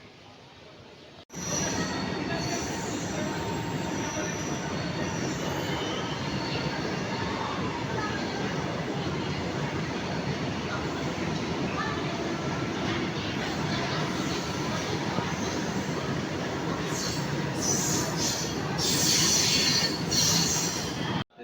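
A train runs steadily along the rails, wheels squealing and rumbling in a loud, continuous wash that swells slightly near the end, heard close by.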